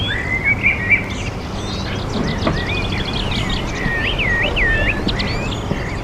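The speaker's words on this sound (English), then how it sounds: "Well, we hear a lot of birds, especially in the spring." Several birds chirp and trill in quick bursts high overhead, fairly clear against a steady low outdoor hum.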